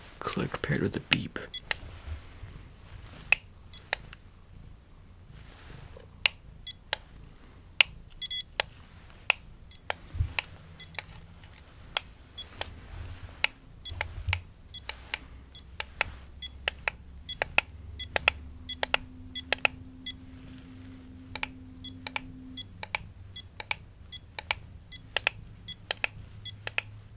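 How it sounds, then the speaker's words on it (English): Sharp clicks, each paired with a short electronic beep, repeat irregularly throughout, close and crisp over a low ambient hum. "click paired with a beep"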